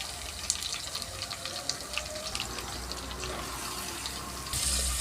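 Onions, curry leaves and green chillies sizzle in hot oil in a pan, a steady close crackling hiss with scattered pops throughout.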